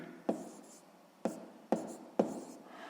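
A pen or pencil writes a handwritten math exercise in four short, close scratchy strokes, each with a sharp onset and separated by pauses. No one speaks.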